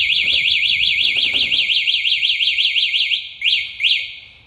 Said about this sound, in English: Here's the alarm. The alarm's on.